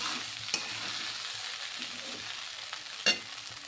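Kanda poha stirred and mixed in a hot pan, a soft continuous sizzle with scraping strokes and two sharp clinks of the spoon against the pan.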